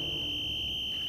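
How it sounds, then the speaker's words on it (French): A steady, piercing high-pitched alarm whistle tone holds continuously for about a second, fairly loud over a faint low rumble, in a cartoon. "C'est le sifflet d'alarme de Roderick"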